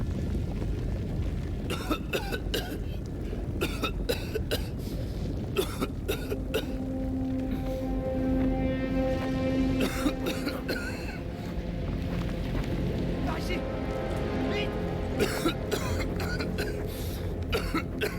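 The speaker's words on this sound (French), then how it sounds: "la toux, c'est toujours la même" A character coughs in the video game Mafia The Old Country, giving repeated harsh coughs and throat-clearing bursts in clusters, loud and close over a steady low game ambience with sustained tones.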